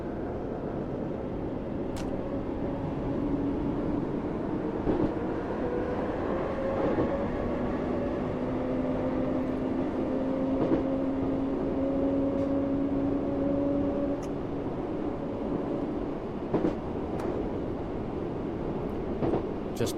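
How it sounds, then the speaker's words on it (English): A Class 484 train runs on the Isle of Wight line in Train Sim World, with a steady low rolling rumble, rising and falling motor whine tones and occasional rail clicks. "There's a nice deep bass that you don't get on a lot of the other trains"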